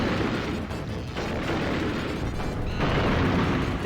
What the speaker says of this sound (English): There's, explosions and crushers. Just randomly explosions.